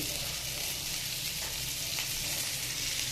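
A vegetable curry frying in a pan with taro, giving a steady, continuous hiss of sizzling oil at moderate volume throughout, with no talk.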